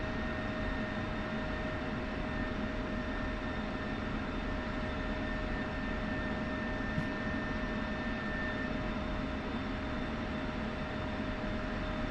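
Jet fighter taxiing on the ground in the DCS flight simulator during a Syria mission, a steady loud engine whine and rumble holding constant throughout with no talk.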